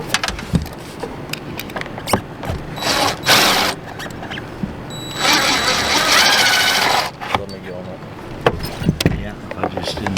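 A socket ratchet works the rusty bolts loose on an AC fan motor, with close clicks and rapid ratcheting bursts between metallic taps and brief pauses.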